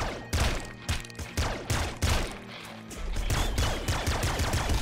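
Rapid bursts of gunfire in the top-down shooter Nuclear Throne, loud repeated shots with heavy thumps and brief gaps, continuing steadily with no voices.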